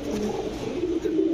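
Teddy and Bombay pigeons at a farm give steady, close, low cooing in a continuous rolling stream, clear and fairly loud with no voices over it.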